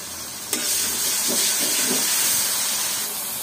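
Dried lotte fish goes into a hot pan with a sudden burst of loud sizzling and hissing that carries on as a steady spitting fry, close up and without talk.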